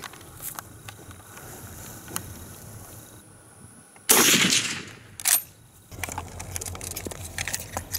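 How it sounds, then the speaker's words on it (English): A Schmidt Rubin 1889 Swiss rifle fired on an outdoor range: one sharp, loud shot with a decaying tail, followed by a second fainter crack and quiet background with light handling noise. "we're gonna finish out this video shooting from the 25-yard line"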